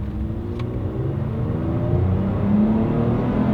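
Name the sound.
Toyota Tacoma engine revving with Pedal Commander throttle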